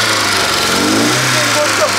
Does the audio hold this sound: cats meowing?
no